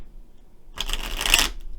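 Tarot cards being shuffled, a short riffling flutter of cards lasting under a second after a quiet start, close and clear with no talking.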